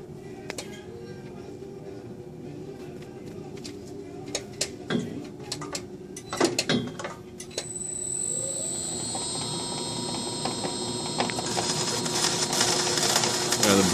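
A Rosenthal smart slitter blade cuts through an adhesive roll, with a steady mechanical hum, scattered clacks and knocks, and then a rising high whirring as the cut proceeds, all close by.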